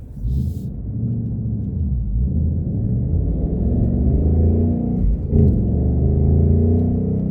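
A deep, powerful 2020 Ford Mustang Bullitt V8 engine rumbles steadily up close, a low throaty drone with a brief surge partway through.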